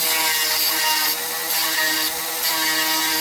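A Granberg electric chainsaw sharpener grinding a chain tooth, a loud, close, continuous high-pitched whine with slight surges as the grinder bears down on the tooth, heard alone.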